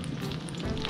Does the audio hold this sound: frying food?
yes